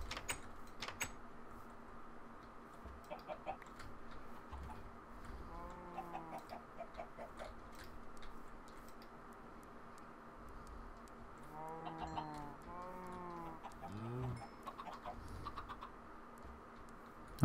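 Chickens in Minecraft cluck in short bursts of a few notes, spaced out over quiet background game ambience and faint clicking, fairly soft.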